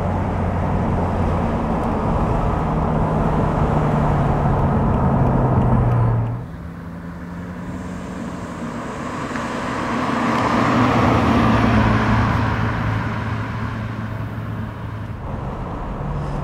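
A 2005 Mercedes SL 65 AMG with a 6-litre V12 biturbo pulls hard from low revs, a deep smooth engine roar under heavy road noise that drops at a shift, then swells again and settles.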